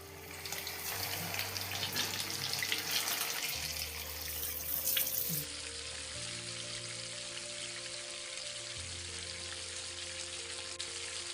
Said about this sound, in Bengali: তেলটা গরম হয়ে গেছে, এবার আমি এগুলোকে ফ্রাই করে নেব।